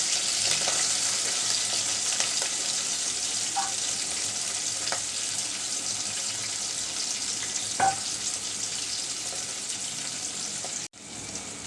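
Onions frying in oil for shutki bhuna, a Bengali dried fish dish: a steady, close, loud sizzle throughout with occasional faint stirring clicks, cutting off abruptly near the end.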